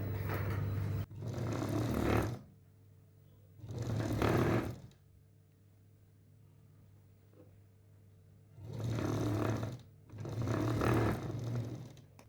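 A sewing machine sews a second line of stitching along a princess-cut blouse seam in four separate bursts of several seconds each, with quiet pauses between them and a steady low motor hum underneath.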